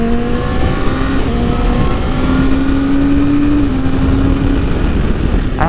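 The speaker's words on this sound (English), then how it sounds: "that cold start is, you know, really the only problem that I guess I've had with the bike" A 2017 Yamaha R6 motorcycle engine running after a cold start: a loud, close, continuous drone with a steady whining tone throughout.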